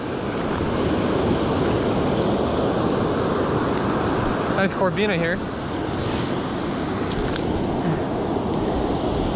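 Ocean waves rolling and breaking onto a surf-fishing beach, a constant loud wash of surf with wind buffeting the microphone, and someone speaks briefly over it.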